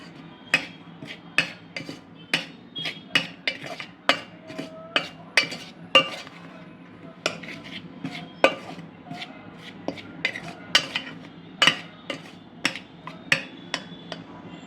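Dry flour, salt, baking powder, baking soda and cocoa powder are mixed for a plum cake, each stroke of the utensil landing as a sharp, close tap or click on the bowl in a fairly regular rhythm, with no voices.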